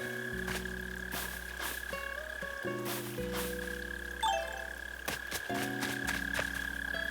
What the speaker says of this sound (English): Holy moly, they're so loud. They're like deafening right now. Mole crickets are my enemy.